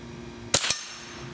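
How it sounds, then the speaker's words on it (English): A single .22 rifle shot cracks out, followed almost immediately by the clang of a struck metal target, short and crisp against a quiet outdoor background. "Let's shoot that top target up there in the middle"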